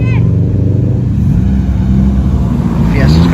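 Mazda MX-5 at a car meet, its engine droning steadily with a low rumble throughout, a brief rev rising near the end amid crowd noise.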